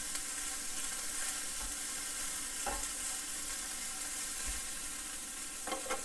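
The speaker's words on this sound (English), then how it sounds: "Go ahead and add our beef back to it. And go ahead and get everything incorporated really well." Ground chuck is stirred in a sizzling skillet, with a steady low frying hiss throughout and a few soft scraping strokes of a utensil against the pan, with no voices.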